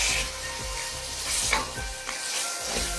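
Chopped tomatoes and green chilies sizzle in hot oil for a langar-style dal tempering, with steady frying hiss broken by a few scraping stirs of a spoon against the pan, close and moderately loud.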